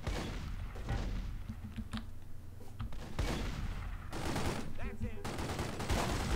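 Bursts of gunfire crackle through a shootout with police in The Godfather II video game, rapid overlapping shots in clusters, moderately loud, with game noise and occasional voices mixed in.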